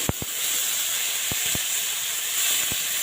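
Bengali potol posto spice paste fries in a pan, a continuous bright sizzle broken by several sharp knocks of a utensil against the pan.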